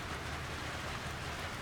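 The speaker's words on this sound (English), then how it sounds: "It's actually raining a little further now." Rain falling across spring woodland turkey habitat, a dense, even hiss of drops on leaves and ground, continuous and steady with no voices.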